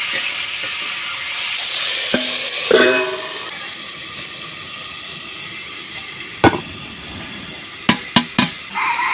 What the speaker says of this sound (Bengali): স্বাদ মতো লবণ, আলু এবং চিংড়ি একসঙ্গে কষাবো